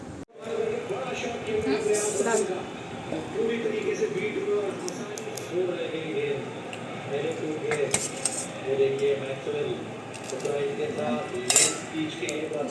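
Cutlery and dishes clink steadily through a meal of lemon, dal, fried papad and potatoes, with scattered sharp metallic taps over continuous conversation.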